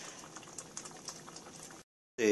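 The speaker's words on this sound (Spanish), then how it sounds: "Pero ya vemos que ya rompió el hervor" Homemade barbecue sauce simmers in a pot, giving a steady low bubbling with small pops that stops abruptly, followed by a brief burst of sound at the end.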